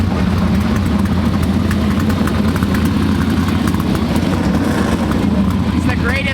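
A 360 sprint car engine idles and rumbles steadily at an Oregon race event, a loud continuous low drone with a faint rising whine near the end, heard alone.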